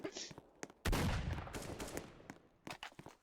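Pistol gunfire in a multiplayer shooter game: sharp close shots scattered throughout, with one loud burst of firing in the middle, mixed with game sounds.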